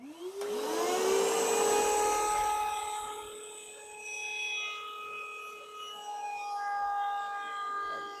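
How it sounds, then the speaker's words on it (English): A router spins up with a rising whine and then chamfers the bottom edge of a wooden base plate over a backer board, giving a loud, sustained, high-pitched motor drone with a rasping cut. "I'm going to use a backer board so that when I route across this bottom edge"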